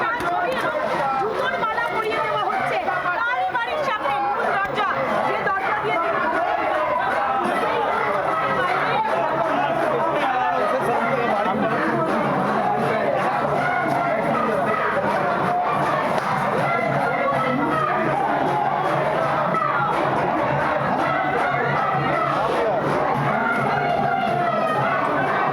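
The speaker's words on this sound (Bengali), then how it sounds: "চোর চোর স্লোগান দেওয়া হচ্ছে।" A dense protest crowd outside a house in Entally fills the air with loud, sustained babble, overlapping shouting and chanted slogans, steady throughout with no pause.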